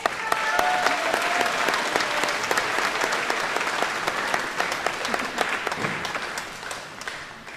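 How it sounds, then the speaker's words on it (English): A large audience at a high school graduation ceremony applauds graduates' parents and families, with dense, sustained clapping throughout that tapers off near the end. "let's give them a round of applause"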